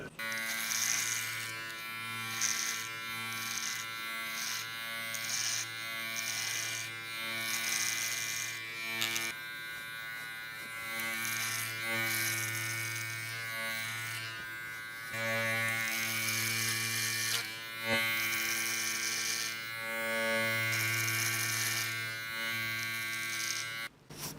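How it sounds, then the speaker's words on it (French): A steady electric beard trimmer buzz runs nearly continuously, its pitch and loudness shifting slightly as it moves across beard hair, with brief dips between passes. "on va venir utiliser notre tondeuse de coupe"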